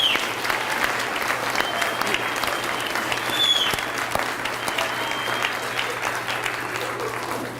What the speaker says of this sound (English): let's give a round of applause to our teachers